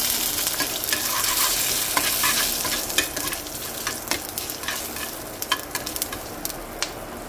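Fenugreek seeds, urad dal and mustard seeds frying in hot oil for a bitter gourd curry, a steady close sizzle with scattered crackles and pops and a few spoon scrapes, no voices.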